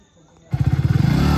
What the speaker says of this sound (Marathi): आता आपण चाललोय बाईकवर आणि बाईक पण खूप डेंजर आहे